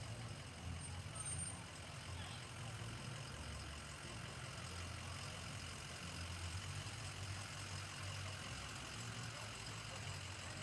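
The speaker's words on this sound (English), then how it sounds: "And the Cabarrus County Sheriff's SRT Special Response Team, this is their SWAT truck." Cabarrus County Sheriff's SWAT truck rolling past in a Christmas parade, a faint, steady low engine rumble with distant crowd ambience, no clear speech.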